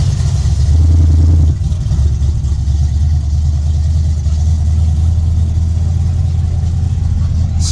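An award-winning show car at a car show, its engine running with a deep, loud, steady idle rumble and a short blip of revving near the start, with faint crowd noise behind.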